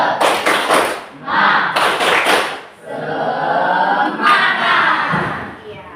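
A classroom of students does a rhythmic clapping chant, loud and close: bursts of claps and thumps alternate with shouted group voices.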